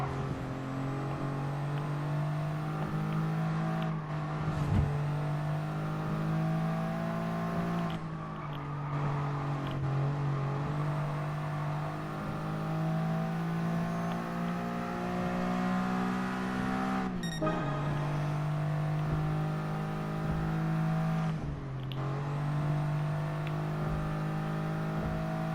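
A small lightweight car in Gran Turismo Sport races at around 160 km/h, its engine droning steadily at high revs with brief dips at gear shifts, loud and continuous with no talking.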